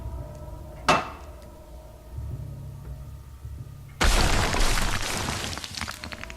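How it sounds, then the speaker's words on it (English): In the Silent Hill 2 video game, a metal pipe whacks a wall: one sharp hit is followed later by a loud, crashing break that rings on with rattling debris and clatter. "Give it a good whack."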